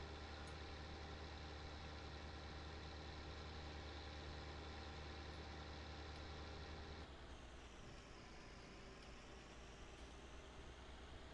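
A New Holland tractor in Farming Simulator 19 runs with a steady, loud idling engine drone that holds throughout, shifting slightly in tone partway through, with no talking.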